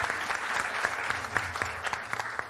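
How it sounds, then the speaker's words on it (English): A live audience at a talk event claps, a modest scattering of individual hand claps in an uneven rhythm, fairly faint and sparse rather than a full roar. "Can you please give yourselves a big, big, big, big, big round of applause?"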